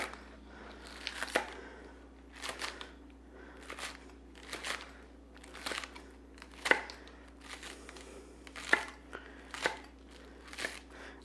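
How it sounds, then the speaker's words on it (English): A knife slices scallions on a board in soft, crunchy cuts that come in small irregular bursts about once a second. The cutting is quiet and close, with no talk over it. "the last ingredient we need is some scallions. We're just going to slice those up"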